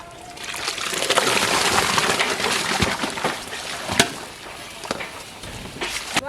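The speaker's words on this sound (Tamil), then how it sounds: "சாப்பாடு தண்ணி நல்லா கொதிச்சிருச்சு இப்போ அரிசியை சேர்த்துக்கலாம்" Rice is tipped into a pot of boiling water, giving a steady watery trickle and splashing with a few sharp clicks and taps, close and fairly loud, with no talking.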